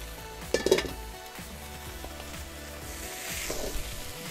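Oil sizzles and spatters in a hot pan as vegetables go in for a beef and veggie stir fry, a steady frying hiss with a sharp pop and utensil clinks early on, no talking.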